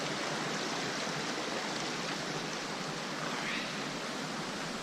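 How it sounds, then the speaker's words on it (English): A mountain creek rushes steadily at a trail crossing in Colorado's Collegiate Peaks Wilderness, a close, loud, unbroken wash of flowing water with no voices over it. "Creek crossing, one trekking pole."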